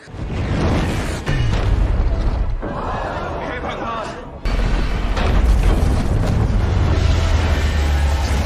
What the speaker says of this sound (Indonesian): satelit Zeus 1A pun terjatuh ke London dan memporak-porandakan seluruh London